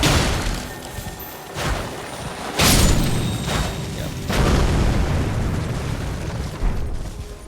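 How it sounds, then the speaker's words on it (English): Red-glowing enemies bursting apart in Elden Ring, a series of deep booming blasts over a steady rumbling game backdrop, the loudest hit near the middle followed by another heavy burst. "once you hit them and break everything, they're gonna explode"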